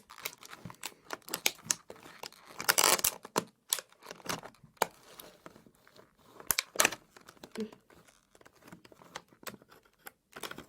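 Scissors snip and crunch through a 5x5 cardboard box in irregular bursts, with crinkling and rustling between the cuts, close and fairly quiet.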